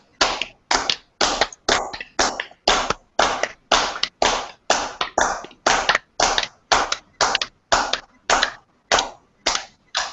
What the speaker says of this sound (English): Press our palms hard and clap slightly harder